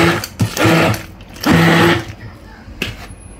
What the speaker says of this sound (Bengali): আমি হ্যান্ড ব্লেন্ডার দিয়ে ডালগুলো বেটে নিতেছি।